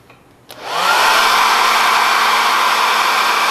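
A blow dryer switches on after a brief click and blows a steady, loud stream of air for several seconds during a wind power experiment on apparent wind.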